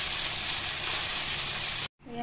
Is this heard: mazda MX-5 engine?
no